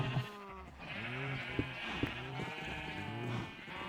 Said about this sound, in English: Let's let some more sheep out.